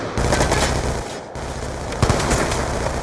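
Rapid automatic gunfire in a Black Ops 2 gun game match, with loud continuous bursts broken by a short pause before firing resumes.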